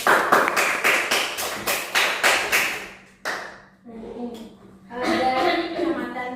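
A classroom group claps after a micro-teaching lesson on Archimedes' law, with about a dozen sharp, rhythmic claps in quick succession. A single clap follows, then murmured voices talk.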